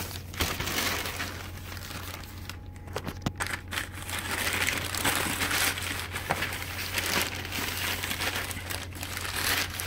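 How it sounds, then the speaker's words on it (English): A plastic shoe bag tab is ripped and crinkled while unboxing Asics Gel Venture 6 shoes, giving a close, steady run of crackly rustling with a few sharp tearing bursts over a low hum. "rip that tab out of the way"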